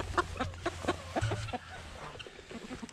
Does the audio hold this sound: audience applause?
no